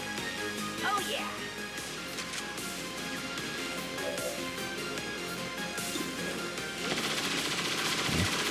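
Rapid gunshots and machine-gun bursts in a heavily modded XCOM 2 battle, mostly faint under someone talking, with a louder burst near the end.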